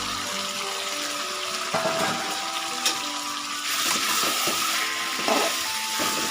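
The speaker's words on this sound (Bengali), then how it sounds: "কষানো হয়ে গেছে জল দিয়ে দিলাম" Water is poured into a pan of simmering pabda fish curry, a steady close splashing wash with bubbling and clatter over a few seconds.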